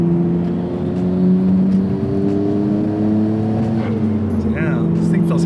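A nicely kept Nissan Skyline GT-R R32 with its RB26 six-cylinder engine holds a loud, steady humming drone with slight rises in revs, while people talk over it.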